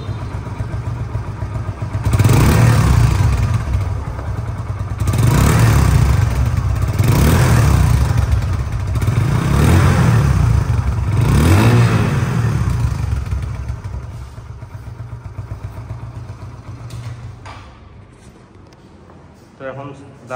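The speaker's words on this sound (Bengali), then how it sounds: "বাইকটির সাউন্ড কোয়ালিটি শুনুন একটু," Close, loud Hero Ignitor 125cc motorcycle engine revved repeatedly in several rising bursts over a steady idle, then dropping back to a quieter idle toward the end.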